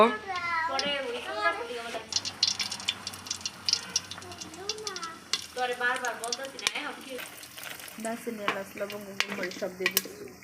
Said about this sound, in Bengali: তো আমাদের তেলটি হালকা হালকা গরম হচ্ছে। আমরা প্রথমে দারচিনি দিয়ে নিচ্ছি